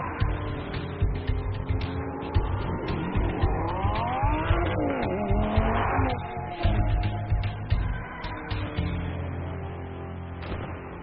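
A 2011 Lamborghini Gallardo Superleggera drives hard around Roebling Road Raceway in Savannah, Georgia. The engine note rises and falls through gear changes as it revs and accelerates, with brief tire squeal, loud and close throughout.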